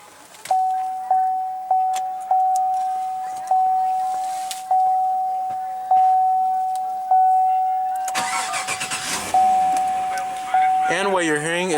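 A door chime dings repeatedly inside a 2015 Chevrolet Silverado 1500 before its 5.3-liter V8 cranks, catches and settles into a steady idle, with a brief voice audible at the end.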